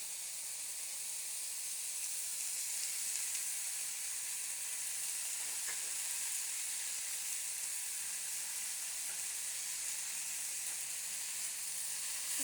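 Eggplant frying in hot oil with potato and onion makes a constant, dense sizzling hiss that stays at a steady level throughout. It sounds close and moderately loud, with no voices.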